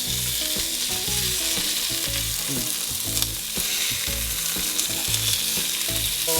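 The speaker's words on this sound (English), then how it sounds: "finish cooking it on the other side" Fish frying in a pan, a loud, continuous close sizzle with faint crackles, heard under steady background music with no talking.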